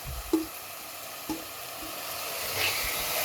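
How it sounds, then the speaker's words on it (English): Mushroom fried rice sizzles steadily in a hot pan while being stirred, with a few soft scraping knocks of the spatula over the even hiss, close and unaccompanied by voices. "Now stirring is the work we have to do. So I'll stir it and again show you."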